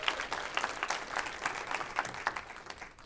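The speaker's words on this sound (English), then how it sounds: "So give yourself a round of applause" An audience at a workplace leadership talk gives a moderate round of applause, distinct overlapping claps that stay fairly even and taper off toward the end.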